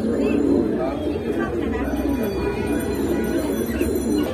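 Pigeons in a loft of pigeons offered for sale, cooing steadily and close throughout, a low continuous murmur of several birds with faint chirps, under a voice talking.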